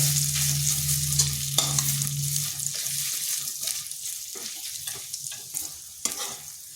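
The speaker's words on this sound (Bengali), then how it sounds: "হালকা একটু আদাটা ভেজে নিচ্ছি যাতে তার কাঁচা গন্ধটা চলে যায়।" Close sizzling of ginger frying in mustard oil in a pan, with scraping stirs and clinks of a utensil; a low hum fades out early on.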